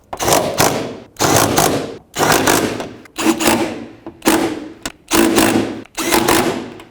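Bolts being snugged up on a wiper transmission of a 2001-07 Toyota Sequoia: seven close, evenly spaced bursts of rapid mechanical ratcheting, each lasting under a second with short pauses between.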